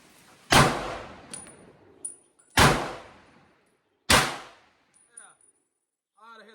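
An M1 Garand fires three loud, sharp rifle shots about 1.5 seconds apart at a level 4 armor plate downrange, each a hard crack with a metallic clang and short ringing decay, followed by faint clinks and brief movement.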